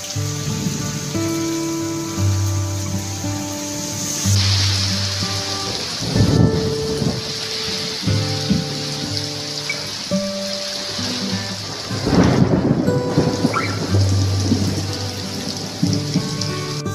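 Heavy rain pours steadily during a kalbaisakhi storm in Odisha, with rolling thunder rumbling through and wind gusting, loud and continuous throughout with no talk.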